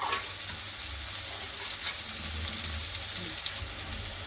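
Green garlic sautéing in a pan for cabbage Manchurian, a steady close sizzle with a wet, hissing texture and faint stirring scrapes, no voices.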